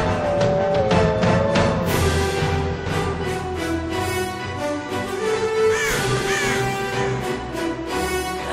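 Crows cawing in a Guild Wars 2 trailer, repeated harsh caws from several birds over an orchestral music bed, loud and close throughout.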